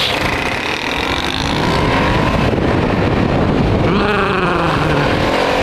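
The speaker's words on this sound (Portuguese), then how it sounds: "Ela com escapamento original, ela tem mais torque de saída, é gostosinho pra andar, cara." A GTR 650 motorcycle with its original exhaust roars loudly and steadily while being ridden, with the engine note rising and falling under strong wind noise close to the rider.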